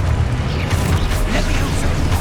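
A Confringo blast spell from Hogwarts Legacy bursts with a booming, crackling explosion, dense and loud throughout with rumbling low end and scattered pops.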